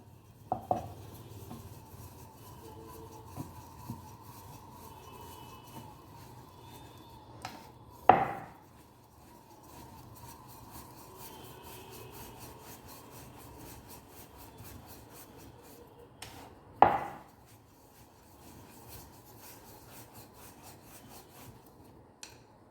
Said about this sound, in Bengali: এবার আমি এই রুটিটাকে বেলে নিচ্ছি। প্রথমে বেলে নেব ভালো করে।